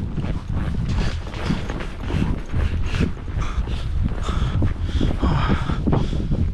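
Horse hooves clip-clopping close by outdoors, irregular muffled thuds over broadband wind-like rumble, loud and continuous without speech.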